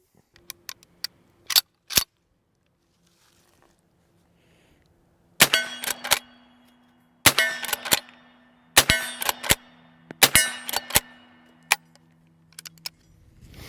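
A Winchester 1866 lever-action rifle in .44-40 is worked and fired: a few sharp metallic clacks of the action, then a string of loud close shots, each with quick lever clatter around it.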